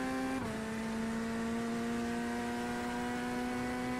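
A race car engine in the iRacing sim at the Bathurst 12 Hour, holding a steady buzzing drone at constant revs after a brief dip in pitch near the start, loud and continuous.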